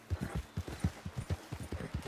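A Shire horse's hooves clip-clop in the video game Red Dead Online, a steady, close rhythm of thudding steps at a brisk walk, alone without talk.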